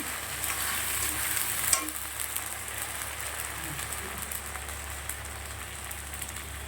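Ground ginger, cumin, coriander and dried chilli paste frying in a pan for a fish dish, a faint steady sizzle with a soft knock near the start and scattered light crackles.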